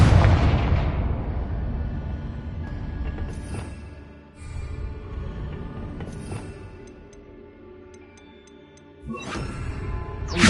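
A Confringo blasting curse in a Harry Potter game, opening with a heavy, loud explosion that rumbles and decays, followed by several further booming bursts and crackling impacts spread across the clip.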